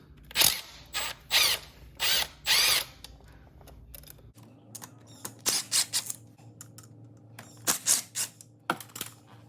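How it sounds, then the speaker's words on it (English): A power tool whirs in several short bursts while undoing 8mm bolts around the engine case of a Yamaha Warrior ATV, followed by scattered clinks and taps of metal parts being handled. "Now there's a bunch of 8mm bolts all the way around this case. We're gonna undo all of these."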